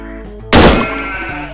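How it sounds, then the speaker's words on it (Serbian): A single sheep bleat in the Arma 3 game, loud and sudden, rising over a steady background of tonal game music and hum and then fading into a wavering tail. "Ovca."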